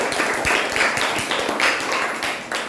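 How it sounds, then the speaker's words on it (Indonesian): Primary school class applauding a student group after their frog life cycle presentation, a brisk, even patter of children's clapping in a room, close and fairly loud throughout. "Tepuk tangan untuk kelompok 3 dari Dewan Katak"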